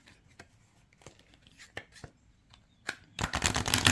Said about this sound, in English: So if you can get your hands around it, it does shuffle really well